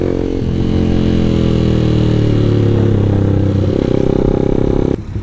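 A motorcycle ridden on a main road runs at a loud, steady engine drone heard up close, rising in pitch as it accelerates, then a bump and drop near the end.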